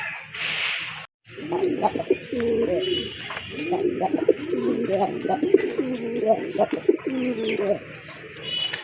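A male Rajgolla pigeon gives repeated throaty coos in a steady rolling sequence, close and clear, with other bird chirps and a brief rustle at the start.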